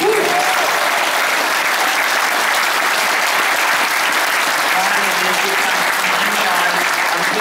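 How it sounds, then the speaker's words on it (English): An audience at the Gaiety Theatre on the Isle of Man applauds the TT 2015 racers, loud, thick, continuous clapping from a packed hall that holds steady throughout, with faint voices underneath. "I'm sure we all want to give the racers a big round of applause"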